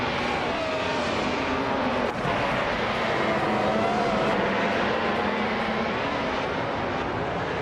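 A pack of racing cars in a racing game, including a 2006 Ferrari 248 F1, roaring continuously at a steady high pitch as a race begins, loud and unbroken, with no talking.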